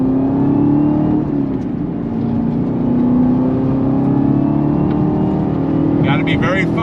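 2021 Chevrolet Camaro ZL1 1LE with a 6-speed manual, engine droning steadily under load with rising pitch, loud and continuous from inside the car.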